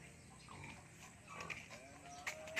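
Native pigs in a farm piggery, faint grunts and oinks at a distance over a low background hum, with a few brief squeals toward the end.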